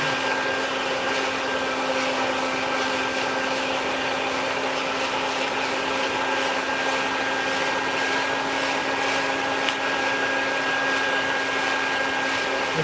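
A hot-air popcorn popper roasting coffee beans gives off a steady, even whir of blowing air with a faint hum, unchanging and constant throughout.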